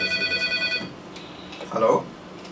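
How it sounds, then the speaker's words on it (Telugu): A telephone rings with a pulsing tone for under a second after a call is placed, followed by a voice. "ఈ విషయంపై మాట్లాడే ముందు ఒక ఫోన్ కాల్ చేస్తాను."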